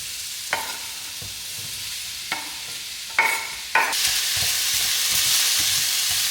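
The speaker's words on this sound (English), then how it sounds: "Added some minced garlic to the pan." Minced garlic sizzles in a pan, a soft steady frying hiss punctuated by a few sharp clacks of stirring, growing louder and fuller toward the end, with no talking.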